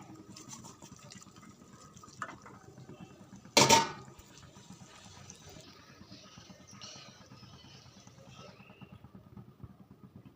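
Pieces of fish drop into a simmering fish curry with boiled potatoes, giving one sharp, close splash and clatter over a quiet, steady bubbling pot.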